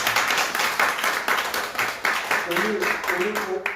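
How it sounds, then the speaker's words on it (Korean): A church congregation at a Sunday worship service claps in welcome for a newcomer, with steady rhythmic clapping throughout and voices speaking over the last part. "귀한 성도님 오시는 박수 한번 해주세요."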